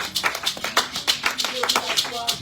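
A church congregation claps in quick, uneven bursts of hand claps, fairly close and lively, with no talking over it.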